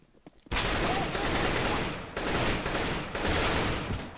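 Sustained bursts of Counter-Strike: Global Offensive gunfire, loud and close, starting abruptly after a quiet moment and continuing in dense rattling volleys with brief dips, alone without talk.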